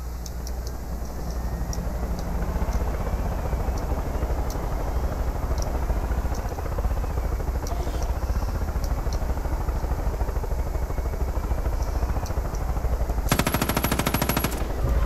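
A helicopter in Far Cry 5 fires a machine gun in a sustained, loud, rapid stream of shots over the constant drone of the rotor, with no pauses and no voices.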